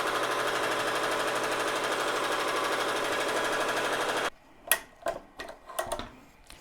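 An embroidery machine stitches a satin stitch in matte thread on a shirt appliqué, a steady rapid mechanical whirring and ticking that runs loud and unbroken for about four seconds, then stops, leaving a few scattered clicks and knocks.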